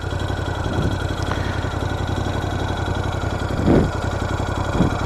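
Ducati Scrambler 1100 motorcycle engine idling with a steady, even low rumble through its exhaust, heard close and alone, with a couple of brief swells in the beat.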